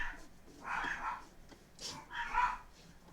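A dog barks outside as it walks past a house, a few muffled, fairly faint barks in separate bursts heard from indoors.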